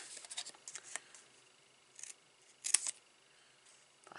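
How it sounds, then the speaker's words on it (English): Scissors snip through paper while a gift box is trimmed, a few quick close cuts in short bursts separated by pauses, the sharpest near the end. "And then actually cut it up to the corner."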